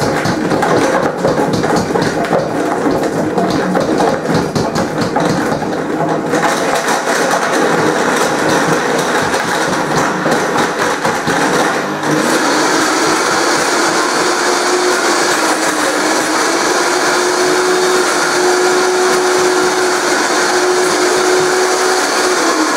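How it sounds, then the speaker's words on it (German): A blender purees roughly 100 grams of dates into a creamy mass for a raw vegan chocolate banana cake, running loud and continuous with a grinding whir that changes pitch as the mixture smooths out. "Wir pürieren jetzt also diese, das sind ungefähr 100 Gramm, vielleicht ein bisschen mehr Datteln,"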